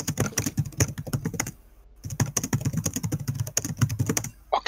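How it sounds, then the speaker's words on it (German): Rapid, continuous typing on a computer keyboard, loud and close, runs in dense bursts during a League of Legends session, with a short pause in the middle. "jetzt richtig am Tippen"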